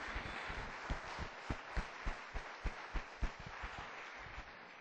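Applause in a church, with distinct claps in a rough rhythm over a diffuse background of clapping, fairly faint and with no voices.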